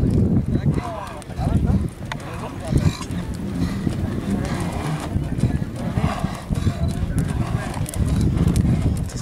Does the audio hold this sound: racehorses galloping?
yes